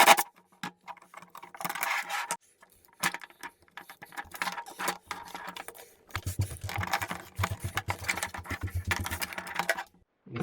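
A paddle bit drilling holes into a plastic battery box, heard in intermittent grinding, rasping bursts with short pauses between, up close and without talk.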